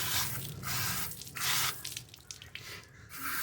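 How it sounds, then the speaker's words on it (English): Water from a hose splashes and sprays over a part of a BISSELL floor cleaner in bursts, surging and easing off several times, close by and with no voices. "So now you got to take the hose and clean this stupid thing out."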